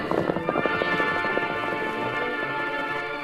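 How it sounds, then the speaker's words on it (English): Galloping horse hooves in an old western radio drama, a quick rhythmic clip-clop pounding at the start and then blending into a steady wash of dramatic music. "What's the sense of him galloping that way?"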